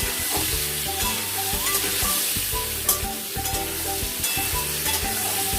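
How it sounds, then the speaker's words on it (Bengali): Potatoes and pointed gourd fry together in a pan, a loud, close, steady sizzle broken by rhythmic spatula strokes and scrapes against the metal, with no one speaking. "আলু আর পটল একসঙ্গেই আমরা ভালো মতো করে ভেজে নেব।"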